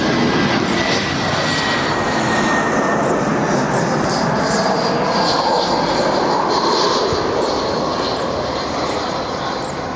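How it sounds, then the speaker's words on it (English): An EasyJet Airbus A319 arrives at Barcelona airport, a loud continuous jet roar with broadband rumble and whine that holds strongly throughout. "we've got EasyJet A319"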